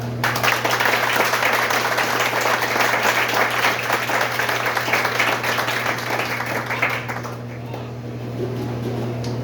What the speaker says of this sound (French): Je vous invite à vous applaudir